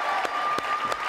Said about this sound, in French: On l'applaudit bien fort, hein, on l'applaudit bien fort.